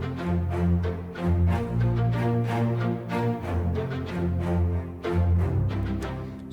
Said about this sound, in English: It's basically a valse type of accompaniment with the staccato strings.